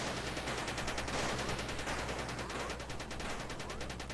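Rapid, continuous automatic gunfire in the multiplayer shooter Gang Garrison 2, a steady rattling stream of shots with no break, loud and dense throughout, with no talking.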